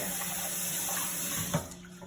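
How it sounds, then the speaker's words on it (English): Hot tap water runs into a kitchen sink as dishes are rinsed, a continuous close splashing stream with a light clink of crockery near the end. "So I'm just using hot water. I'm giving everything a rinse before I'm gonna add soap"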